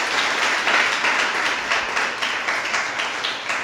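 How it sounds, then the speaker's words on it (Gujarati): Audience of around sixty listeners at a youth book talk applauding a speaker, steady dense clapping filling the room throughout. "આપણે ફરી એકવાર એના માટે તાળીઓ પાડીએ."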